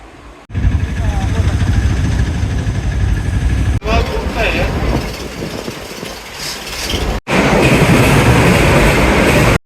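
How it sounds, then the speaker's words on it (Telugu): Train noise at Peddapalli railway station, a loud continuous rumble and engine drone broken by a few abrupt cuts, with some voices faintly mixed in. "సో ఇప్పుడే పెద్దపల్లి రైల్వే స్టేషన్కి అయితే వచ్చాం"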